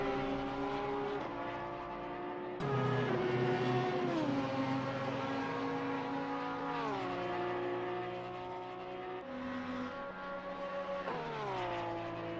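Porsche race car engine at Monza in Assetto Corsa Competizione, heard on board as a loud, steady whine that climbs through the gears, with several sharp gear shifts and falling pitch under braking.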